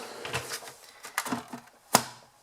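A cut and emboss die-cutting machine rolls a die through for papercraft, giving a few soft mechanical clunks and rattles, then one sharp close clack near the end, with no voices.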